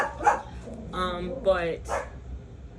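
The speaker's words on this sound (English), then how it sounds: "sorry about the dog barking" A dog barks and yips a few times in a room, fairly close, as someone speaks over it.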